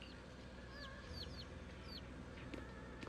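Bird clucking and chirping inside a room in the video game Zenless Zone Zero, with short repeated calls over a steady low ambient hum, moderately faint and with no talking.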